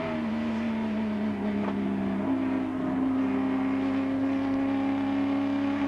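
Auscar race cars circling the track: a continuous loud engine whine with a clear pitch step upward midway, several engines droning together in the background, no voices.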